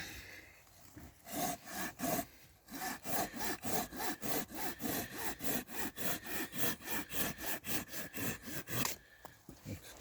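A Tenju 240 hand saw cuts through wood in fast, even back-and-forth strokes, each a rasping close scrape, about twenty in a steady rhythm before stopping, with no talk.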